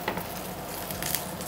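A tempering for rasam sizzles in hot oil, a soft, continuous crackling hiss heard close but fairly quiet, with no voices.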